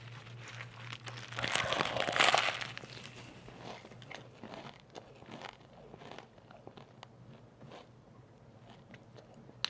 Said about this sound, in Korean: 영국식 로컬 샌드위치 크리스프 샌드위치의 어니언 맛입니다. 자, 먹어볼게요.